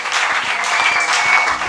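A church congregation bursts into steady, dense applause, a continuous wash of clapping filling the whole moment at close range with no voices standing out.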